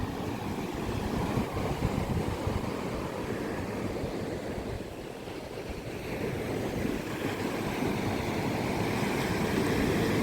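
Atlantic Ocean surf rolls onto the shore at Ocracoke in the Outer Banks, a continuous near wash of breaking waves that swells and eases slightly, with wind and no talking.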